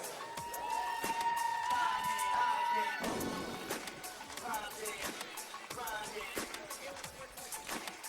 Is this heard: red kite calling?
no